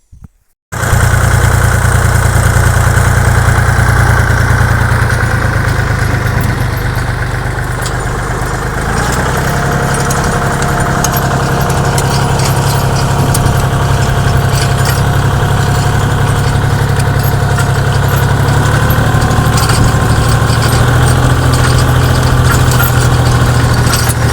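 Farm tractor engine running loud and close, a steady low diesel drone that holds evenly from just after the start to the end, with a slight shift in pitch early on; no talking.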